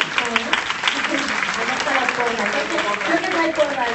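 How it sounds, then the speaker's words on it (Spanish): A short burst of applause from a small audience at a round-table event, steady clapping lasting a few seconds with a voice faintly audible underneath. "a continuación, un aplauso para"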